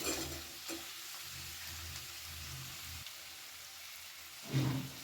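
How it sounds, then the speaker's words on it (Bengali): Fried prawns tipped into a pan of oil-released masala with kohlrabi and potato, giving a low steady sizzle and soft stirring scrapes, then a brief louder burst of frying as they hit the hot spices near the end. "এখন আমি এর মধ্যে দিয়ে দেব ভেজে রাখা চিংড়ি মাছ"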